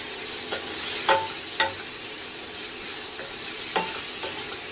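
Ivy gourd sautés in a pan with turmeric and salt. A steady sizzle is punctuated by several crisp spatula clicks and scrapes at uneven intervals, close and without speech.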